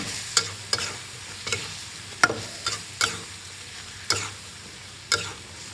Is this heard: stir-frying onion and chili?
yes